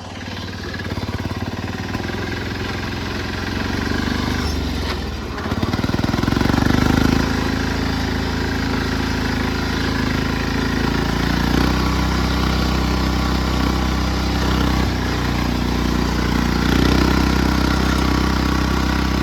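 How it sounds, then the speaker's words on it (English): An old lawn tractor's small engine runs loudly and continuously outdoors, its low rumble rising in load partway through and staying steady to the end; its worn drive belt slips in high gear. "The belt on this tractor is really old, so it likes to slip in high gear"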